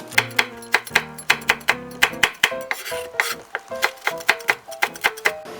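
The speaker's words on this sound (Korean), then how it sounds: "홍고추도 어슷 썰어 주시면 돼요" A knife slicing red chili peppers diagonally on a cutting board while making radish-greens kimchi, giving a quick, steady series of sharp chopping taps that are close and clear, with no talking.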